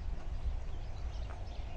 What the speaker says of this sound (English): now that's a big old rooster